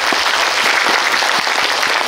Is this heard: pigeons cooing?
no